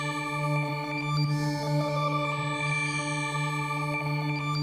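Synth pad named Solar from the Serum synthesizer, from a high-tech sound kit, a sustained steady chord of stacked tones droning evenly throughout, loud and alone.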